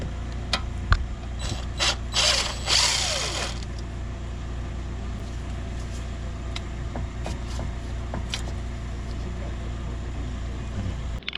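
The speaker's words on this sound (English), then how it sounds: "So now I'm going to remove the ABS sensor. This is an Allen key number 5." Allen key, size 5, working loose the ABS sensor on the front hub of a BMW 5 Series 535d, giving scattered metallic clicks and ratcheting taps over a steady low workshop hum.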